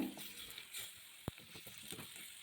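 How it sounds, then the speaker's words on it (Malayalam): Tomatoes sizzle steadily in hot oil with masala, cooked down for a mushroom fry dish; one sharp tap of a utensil against the pan cuts through the constant close frying hiss. "തക്കാളി എണ്ണയിലും മസാലയിൽ കിടന്ന് നന്നായി മൂപ്പിച്ചെടുക്കുകയാണ്."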